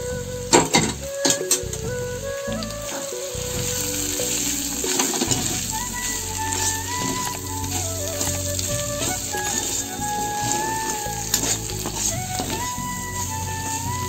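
Egg and snake gourd frying in a pan, a continuous sizzle under background music, with occasional clinks of utensil against pan.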